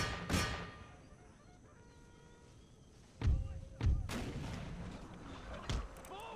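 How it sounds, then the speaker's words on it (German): Artillery fire in Empire Total War, set in the American Civil War, with several sharp, loud cannon booms spread apart over low battlefield ambience. "Oh, das war ein großer Schuss hier."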